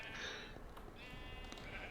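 Sheep bleating in a video game, a couple of quiet, wavering calls over a low background hum.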